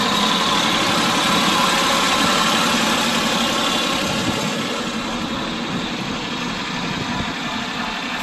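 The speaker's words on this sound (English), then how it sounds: "John Deere 4440 quad range transmission." Loud, steady rumble of a 1981 John Deere 4440 diesel tractor engine idling nearby, constant throughout with no talking.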